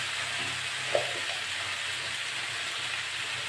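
Potatoes fry in a pan with a steady, close hiss of oil, broken by one brief stir or clink near the start, and no speech.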